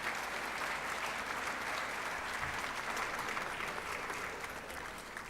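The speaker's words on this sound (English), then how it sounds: "Thank you very much for your applause." Sustained applause from the audience at an international convention for English teachers, a dense steady wash of many clapping hands, fairly distant and even, with no talk over it.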